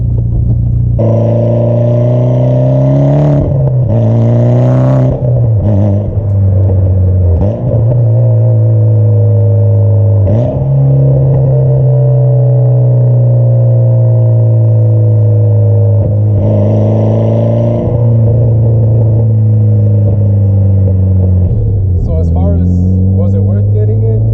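A Mitsubishi Evo X fitted with a single-exit Tomei exhaust idles with a deep, loud rumble, then is blipped repeatedly, with several rising revs and falls across the recording.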